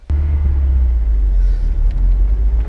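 A Honda S2000 pulls away on a test drive after a suspension A-arm bolt was re-torqued, a deep, loud engine rumble starting abruptly and holding steady from inside the car.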